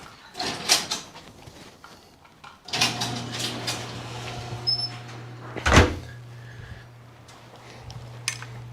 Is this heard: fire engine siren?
no